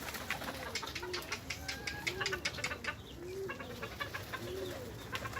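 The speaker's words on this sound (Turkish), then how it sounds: "Kuş bolluğu var burada." A loft full of pigeons coos in repeated soft, rolling calls, several birds overlapping at a moderate distance over a quiet background, with occasional faint clucking.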